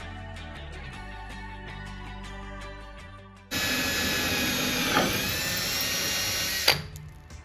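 A power drill with a small pilot bit bores into a car's lower front fender bolt, revving up loud and close after a quieter stretch, then grinding steadily before a sharp catch and spin-down.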